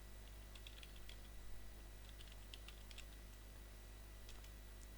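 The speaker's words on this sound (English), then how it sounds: "I'll type it in the chat." Quick, light taps on a computer keyboard come in short bursts over a constant low electrical hum, faint and close, with brief pauses between clusters of keystrokes.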